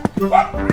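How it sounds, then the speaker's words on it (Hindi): A dog gives a few short, sharp barks in quick succession, fairly loud and close. "ये कुत्ता क्यों भौंक रहा है?"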